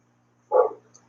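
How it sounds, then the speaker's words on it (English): A dog gives a single short bark outdoors near a backyard water setup, fairly close and clear against an otherwise quiet background with a faint steady hum. "Why is she barking?"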